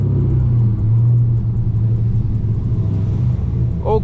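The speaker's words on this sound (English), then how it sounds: "Hope you guys are enjoying this beautiful, beautiful Hellcat POV drive." A 1000-horsepower Dodge Hellcat on the road, heard from inside as a loud, deep, continuous engine rumble that swells slightly and settles, with a faint brief sound near the end.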